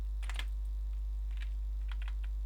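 Stiff-keyed computer keyboard typed in short bursts, a quick cluster of clacky keystrokes followed by scattered taps, close and fairly faint over a steady low electrical hum.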